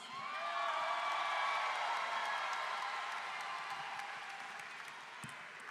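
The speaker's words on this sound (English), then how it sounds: "You may be seated as you give yourselves a round of applause." A large crowd at a Tennessee State University fall graduation ceremony breaks into sustained applause with scattered cheers and whoops, a full, roaring wash of clapping that gradually thins toward the end.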